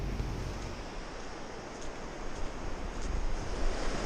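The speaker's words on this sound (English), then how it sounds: "As the fierce water continuously rushed down the river" A fierce mountain river rushes along a hiking trail in Poland, a dense, steady roar of churning water that swells slightly louder toward the end, with no voices.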